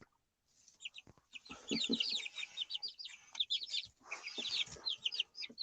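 Four-week-old chickens clucking and peeping, a busy cluster of short chirps and soft clucks rising and falling in bursts, fairly quiet and close, with no voices.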